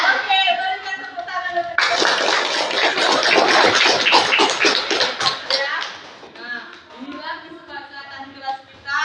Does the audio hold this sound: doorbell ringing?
no